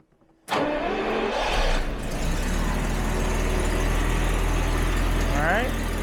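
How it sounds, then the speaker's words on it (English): A Jaguar XJ12 engine cranks and catches with a sudden roar, settling into a steady, loud idle with a low rumble; the engine has an exhaust leak. "Let's see if it fires up."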